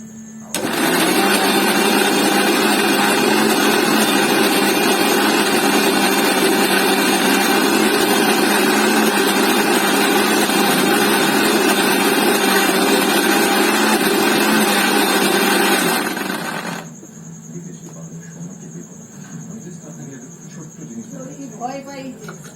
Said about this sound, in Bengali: দেখো, আমরা মিক্সিতে ভালো করে বেটে নিচ্ছি।